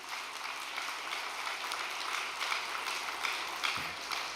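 Applause at a church awards ceremony where fishing prizes are handed out, faint and distant, a steady soft patter of many hands clapping with no voices over it.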